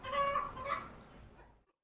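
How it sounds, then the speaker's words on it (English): Chicken clucking nearby, a short burst of two or three throaty clucks that fades out within two seconds. "getting a bit distracted because of the fucking chicken"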